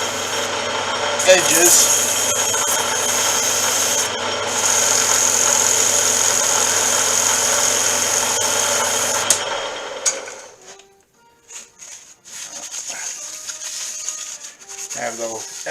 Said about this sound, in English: This is just 220 wet dry sandpaper. Just polishing up the surfaces and the